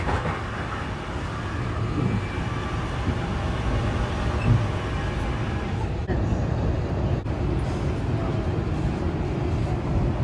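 A Long Island Rail Road Kawasaki M9 train rumbles steadily past at close range, a continuous heavy roar with rattling, and a couple of sharp clanks partway through.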